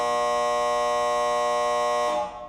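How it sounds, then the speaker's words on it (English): A flat electronic buzzer blares continuously to mark the end of a show segment, a loud steady tone that cuts off near the end and leaves a brief fading tail. "So that buzzer means we are out of time for segment number 1."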